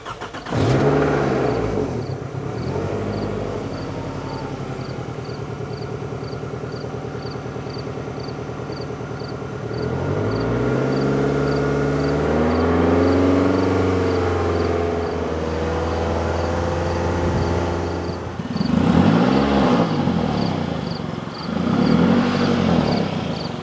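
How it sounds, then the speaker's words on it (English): A 2002-2006 Toyota Camry engine idles steadily, then revs up in several rising and falling swells, with a faint periodic ticking running throughout; no voices over it. "At the start, I'm going to be revving it a bit"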